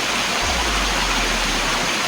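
A river rushes and flows continuously, a loud, dense, broadband wash of water close by with no voices over it.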